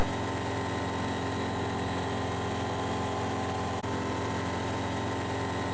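The engine of a CTLS ultralight aircraft drones steadily at close range from inside the cockpit. The loud, constant hum carries no talking and has one brief click partway through.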